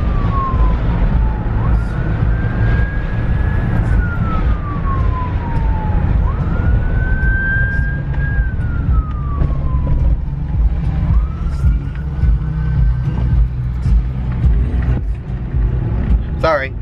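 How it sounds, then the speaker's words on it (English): An ambulance siren wails in slow rising and falling sweeps over loud traffic rumble, fading gradually as it passes. "Sorry, ambulance."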